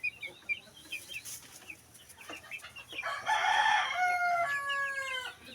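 Egyptian Misri farm chickens cluck and call softly, then a rooster crows loudly and close by, its long drawn-out call filling the last few seconds.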